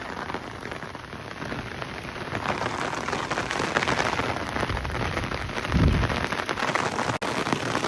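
Heavy torrential rain pours steadily on a village road in Lushala, a dense continuous hiss of drops on surfaces, loud and unbroken throughout with one brief low thud near the end.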